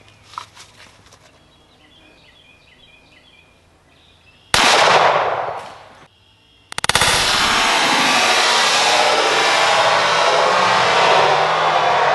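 Two loud gunshots from a 10mm RIA 2011 pistol firing 60 grain Civil Defense rounds, each a sharp blast with a long ringing decay, the second sustaining heavily to the end.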